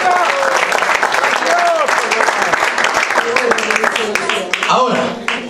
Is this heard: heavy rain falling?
no